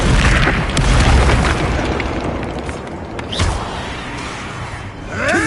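A Confringo spell explodes in Hogwarts Legacy, a loud booming blast with crackling debris that fades, then a sharp whooshing burst at the end.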